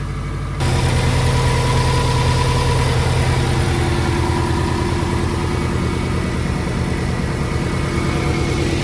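A Subaru STI with an overheating problem idles steadily after being restarted while its cooling system is bled, a loud, even engine drone holding close and unbroken with no talk.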